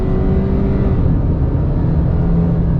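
A 2020 Subaru Crosstrek, lifted, accelerating hard on the gas, with a loud, steady engine drone and road roar heard from inside the cabin and no talking.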